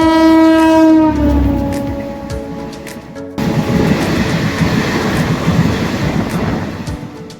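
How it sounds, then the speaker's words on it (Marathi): The Hutatma Express races through Hadapsar station at speed, its horn blaring loudly at first before giving way to a steady roar of wheels and rattling carriages close by. "काय जबरदस्त स्पीड मध्ये हडपसर स्टेशन स्किप करत आहे सध्या आपली ट्रेन।"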